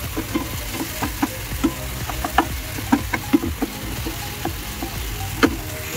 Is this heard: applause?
no